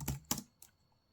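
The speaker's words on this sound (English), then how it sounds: "So type that in, type in your password" Three quick keystrokes on a computer keyboard while a password is entered into a Linux terminal on a Legion Go handheld, each click close and crisp, the last one softer, with near silence between and after.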